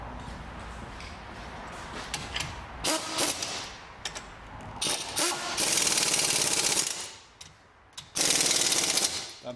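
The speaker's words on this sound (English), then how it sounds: "The only reason I'm putting the air gun on these is because they're a really thick bolt" Air impact gun hammering thick brake caliper bolts tight on a VW Passat in a garage, several loud rattling bursts of a few seconds each separated by short pauses, close up with no talking.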